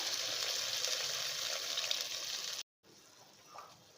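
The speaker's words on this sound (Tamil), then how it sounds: "அந்த தண்ணியை இப்போ இதில் அப்படியே நான் சேர்த்துக்கிறேன்" Rice soaking water pours steadily into a pot with a continuous splashing gush, stopping abruptly, then a faint trickle follows.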